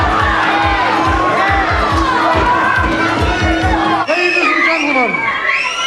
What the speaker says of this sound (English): The crowd are really into it.